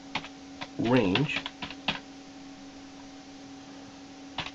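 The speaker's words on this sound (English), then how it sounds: "So let's type function random" Code is typed into Flash CS6 ActionScript 3 on a computer keyboard as a few sparse, crisp key clicks, with a brief stretch of speech over a faint steady hum.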